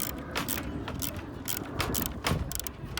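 Close, clicking ratchet strokes come in short bursts as three 12 mm bolts are loosened from the hood latch of a 2004-08 Nissan Maxima, Altima or 350Z, with faint metallic knocks between them.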